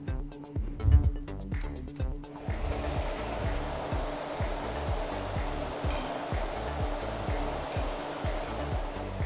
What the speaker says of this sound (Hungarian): Most, ha bekapcsolom ezt a berendezést, akkor egy ventilátorral ráfújjuk a levegőt